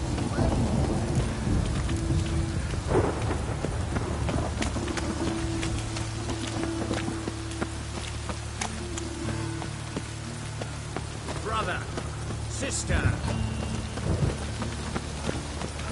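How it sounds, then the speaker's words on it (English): Rain pours steadily with rolling thunder in the background in the video game Witcher 3, dense and continuous, with occasional faint voices and scattered clatter mixed in. "And it's raining again."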